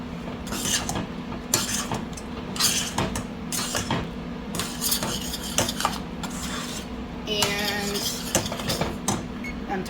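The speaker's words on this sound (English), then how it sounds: "I'm just gonna stir this until it's combined really, really well." A utensil stirring a shrimp dish in a metal pot, with repeated scraping and clinking strokes at an uneven rhythm, close and fairly quiet against a steady background hum.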